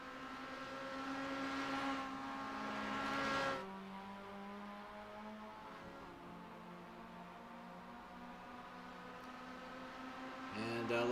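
A Mazda MX-5 circles Suzuka in a racing video game, its engine tone rising through the gears, dropping sharply at a shift, then climbing again, fairly faint and steady with no talking.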